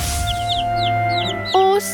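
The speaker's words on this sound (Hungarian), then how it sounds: "Most látom ilyen közelről csirkét." A chicken clucks close by in a few short, quick chirping notes, followed by a louder, sharper squawk near the end, with no talk over it.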